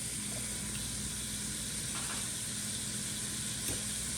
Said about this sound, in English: While the burger is frying